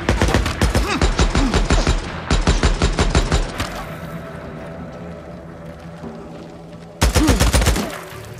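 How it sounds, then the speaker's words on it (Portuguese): Rapid bursts of automatic gunfire from the Days Gone trailer park ambush crack close and loud in dense volleys, pause for a few seconds of rumbling quiet, then resume abruptly. "que tá atirando em mim?"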